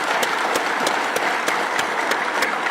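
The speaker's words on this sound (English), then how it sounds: "let's give you a big applause for the institution." An audience at a graduation ceremony in Bangladesh applauds, a dense, steady wash of clapping from a large crowd that holds at full strength throughout.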